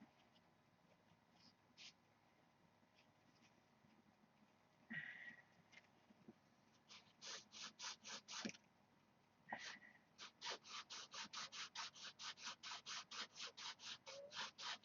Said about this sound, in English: Sandpaper's starting to wear out.